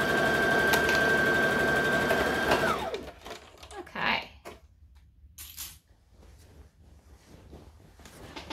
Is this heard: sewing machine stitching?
yes